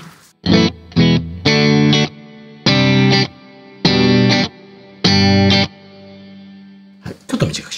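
Electric guitar chords are played through a Strymon Cloudburst reverb pedal with its mix raised, six separate strummed bursts in a row, each cut short and trailed by a faint wash of reverb, loud and close with no talking.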